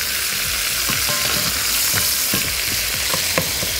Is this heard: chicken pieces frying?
yes